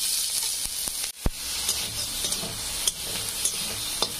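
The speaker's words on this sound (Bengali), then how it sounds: "মাংসগুলো আমি একটু ভেজে নেব।" Pieces of solid meat frying in oil over low gas heat for a momo soup, a steady hiss broken by a few sharp clicks and spatters, with a brief dip near the start.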